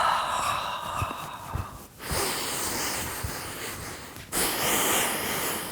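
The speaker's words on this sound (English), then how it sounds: "we can take some big, deep breaths" Deep breathing during a yoga session for shoulder relief, with long airy inhales and exhales as the arms sweep up and around, broad breathy hiss swelling and pausing in slow cycles, close and fairly loud, no talking.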